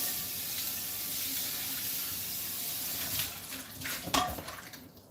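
A pan is rinsed under a running kitchen tap, a steady broadband rush of flowing water that swells near the end with a few louder splashes and clatters as the pan shifts beneath the stream.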